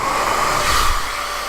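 A handheld blow dryer runs close by with a steady, loud whooshing whir of airflow and motor, held at an even level with no talk.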